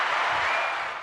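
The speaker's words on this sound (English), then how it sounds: "Give some claps while we're here" A small group of people applauds for a birthday during a podcast, a brief, dense burst of clapping that stays loud and even before easing off slightly at the end.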